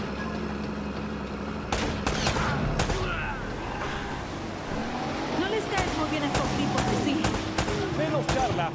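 Sharp gunshots crack in bursts in the video game Uncharted: Drake's Fortune, several loud close reports scattered over a rumbling vehicle engine and game background sound, with voices speaking at times.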